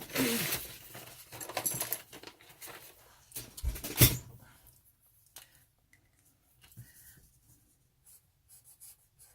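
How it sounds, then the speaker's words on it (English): Magic marker strokes squeak and scratch across paper during art journaling, a few louder scribbles early on, then quieter intermittent strokes, close and faint, with no talk. "it's a magic marker, and you don't want it to bleed through on your desk here."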